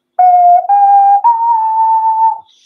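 A xun, the Chinese clay wind instrument, plays three sustained breathy notes, each a little higher than the one before, loud and close with no accompaniment.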